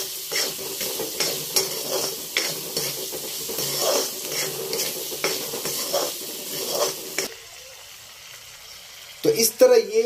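Masala and salt being stirred into poha in a hot pan, a spoon scraping rhythmically over a soft sizzle that stops partway through, followed by a few clinks near the end.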